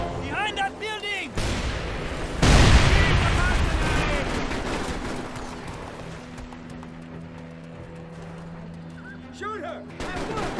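Gunfire and a heavy grenade blast from a combat scene in the PC game Mercenaries 2: World in Flames, with a loud burst about two seconds in, then sustained rattling shots and rumble, and shouting voices at the start and end.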